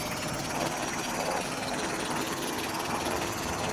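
A drone buzzes steadily in the Plants vs Zombies Garden Warfare video game, a continuous whirring, rotor-like hum that holds at an even loudness throughout.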